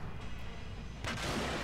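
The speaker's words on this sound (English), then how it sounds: "Take a shot right there." A tank cannon fires in World of Tanks: a single heavy, booming shot about one second in that rises over a rumbling low background and rings briefly afterward, with no voices.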